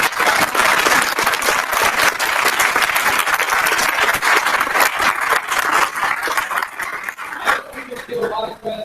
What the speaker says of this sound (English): I would like to give him a round of applause.